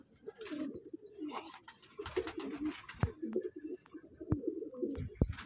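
Andhra breed pigeons coo in soft, low repeated phrases at close range, with sharp clicks and scattered bird chirps over a murmuring background and no talk.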